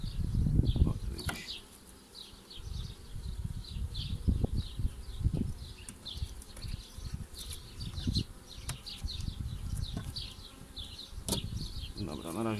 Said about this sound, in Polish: ale te pszczoły sobie przejdą tutaj do niej